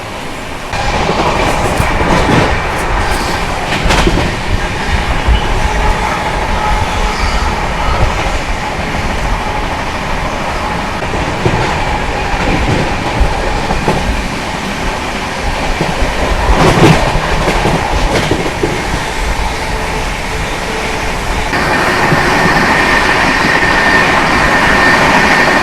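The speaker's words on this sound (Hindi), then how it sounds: "संपर्क क्रांति एक्सप्रेस में जो यात्रा हो रही है अपनी" The Karnataka Sampark Kranti Express, running from Nizamuddin to Yeshwantpur, rolls along the rails with loud, steady rumble and clickety-clack wheel beats, heard from on board with occasional sharper rattles.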